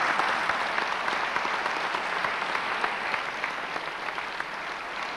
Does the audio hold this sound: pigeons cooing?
no